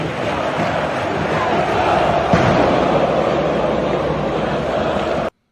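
A large stadium crowd at a Fla-Flu match at the Maracanã applauds Fluminense players at the end of the game, a dense, steady roar and applause that swells slightly before cutting off abruptly.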